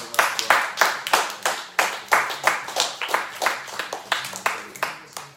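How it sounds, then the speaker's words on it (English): A small audience at a religious talk claps in a loose, uneven burst, individual hand claps clearly separable and fairly close, repeating in a rhythmic pattern without merging into a dense roar. "Can we give another round of applause to Yahoshua?"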